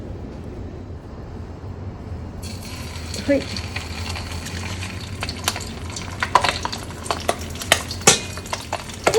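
Pieces of browned pork belly drop into hot oil for deep-frying. A quiet stretch with a voice gives way to a sudden broad sizzle, which grows busier with sharp crackles and spitting pops toward the end.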